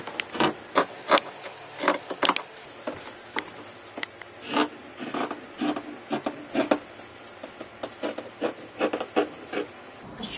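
Shears cutting through a paper pattern for the back piece of ladies' denim pants, giving a run of close, dry snips and rustles in an uneven rhythm, with no voices.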